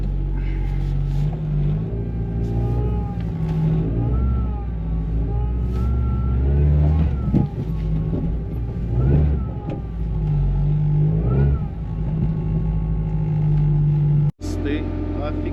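A car with newly repaired power steering pulls away, its engine running and revving up and down under steady talk, ending in a sharp cut.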